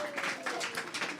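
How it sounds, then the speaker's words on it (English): Audience applause at a Sunday temple program, a short burst of steady, fairly faint clapping from a room of people. "So I'd like you to give him another round of applause."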